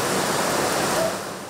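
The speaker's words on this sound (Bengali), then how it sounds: "ছুটির দিনে মুষলধারে এমন বৃষ্টি অনেকের কাছে কাঙ্ক্ষিত হলেও কিছু সময় যেতেই তার রূপ নেয় চরম ভোগান্তি আর আতঙ্কে" Heavy monsoon rain pours in a dense, steady roar that fades a little toward the end, with no voices.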